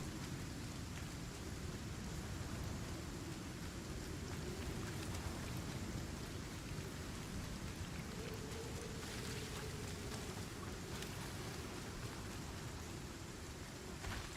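Steady rain pours down in the survival video game Icarus, a dense, continuous hiss that holds evenly throughout with no voices.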